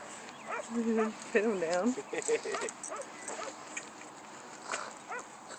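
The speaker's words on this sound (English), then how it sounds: "we bring you to the dog park so you can mingle with other dogs" Dogs play at a city dog park in Boston, with yips, whimpers and excited barks coming in bursts, some close, while people talk and call out over the scuffling and outdoor background.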